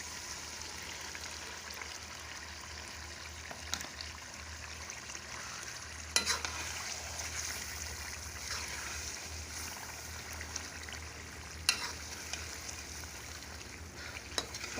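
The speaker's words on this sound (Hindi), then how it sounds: "पालक को भी अच्छी तरह मैंने भूनना है।" Spinach and potato sautéing in a pan over low heat, a soft continuous sizzle with occasional light clicks and scrapes from stirring, quiet and close, no talking.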